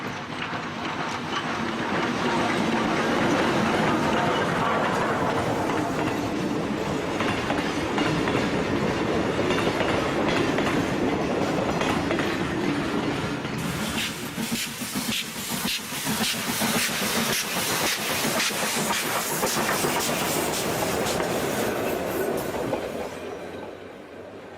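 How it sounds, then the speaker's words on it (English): A great steam locomotive on an Indian railway thunders past on a full run, its steady roar, hissing steam and clattering wheels on the rails loud and unbroken for the whole stretch. "will be among the last to witness the great steam engines on a full run"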